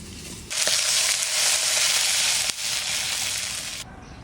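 Red amaranth greens fry in a pan, then water is poured in and sets off a loud, steady hiss and sizzle that lasts about three seconds before cutting off abruptly, close and without talking.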